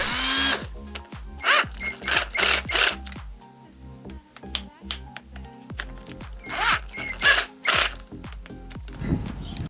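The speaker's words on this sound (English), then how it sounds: "I took some 40mm self-tapping screws, which the screwdriver with the new battery coped with without any problems, even without slowing down." A cordless screwdriver fitted with a new 18650 battery pack drives 40mm self-tapping screws, giving repeated loud bursts of whirring motor and grinding bite, separated by short pauses and clicks.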